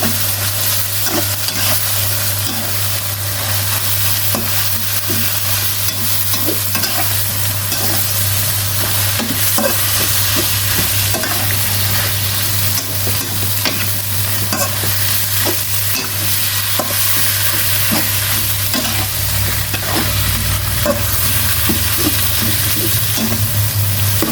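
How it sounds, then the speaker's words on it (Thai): Mushrooms and pork stir-fry with holy basil leaves in a hot pan, giving a continuous loud sizzle with frequent scraping clicks of a spatula and a steady low hum underneath, without talk. "จากนั้นใส่ใบกะเพราลงไปครับ ชอบใบกะเพราเยอะก็ใส่เยอะ ๆ เลยนะครับ แล้วทำการผัดต่อไปครับ"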